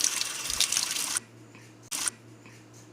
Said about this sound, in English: rinse away the soap.